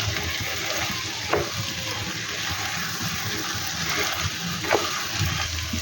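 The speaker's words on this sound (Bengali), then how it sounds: "মশলার সাথে ভালো করে আমি কাঁঠালগুলিকে মিশিয়ে নেব।" Chunks of fried jackfruit are stirred into a spice paste in hot oil, giving a continuous close sizzle with occasional scraping stir sounds and no talking.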